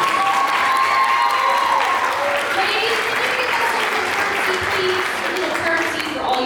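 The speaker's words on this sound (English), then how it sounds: "All right, let's give them all a big round of applause" Audience applause for pageant contestants at the Miss Owasso Pageant, a dense, steady wash of clapping from a crowd filling the whole stretch, with faint voices beneath it.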